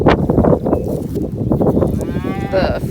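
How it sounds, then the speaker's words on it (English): Cattle in a farm pasture low repeatedly, several overlapping moos from nearby, loud and drawn out, with a little background murmur mixed in. "They're all mooing."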